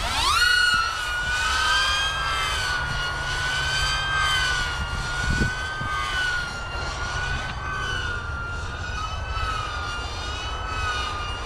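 A DJI FPV drone on a 20x20 stack, its motors held at full throttle during a stress test, gives a loud, steady high-pitched whine that drifts slightly in pitch throughout, near and continuous, with a low rumble beneath.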